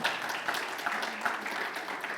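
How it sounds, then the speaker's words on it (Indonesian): A church congregation claps in a brief, even burst of applause at a Sunday service, moderately close and without talk over it. "tepuk tangan."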